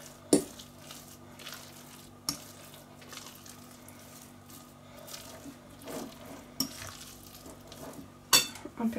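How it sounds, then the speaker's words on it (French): A chicken and mashed potato croquette mixture being stirred in a bowl: soft, faint scraping and squishing, broken by a few sharp clinks of the utensil against the bowl. "Alors on mélange bien le tout."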